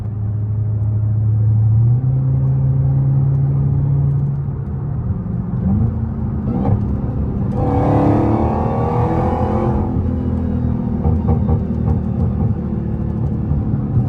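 A Dodge Hellcat rumbles loudly while being driven, a deep, continuous low drone filling the cabin with shifting pitch and a rougher burst of revving partway through.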